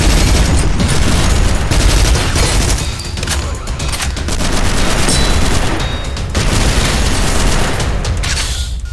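Loud, dense gunfire in the Synthetik video game, rapid automatic bursts and booming shots packed together almost without pause, with a brief lull near the middle before firing resumes.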